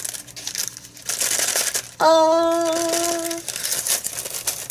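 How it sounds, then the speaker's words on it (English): Deli paper crinkles loudly and steadily up close, with a brief exclamation from a voice and a short sustained tonal ring partway through. "And this is the deli paper, and it crinkles so beautifully"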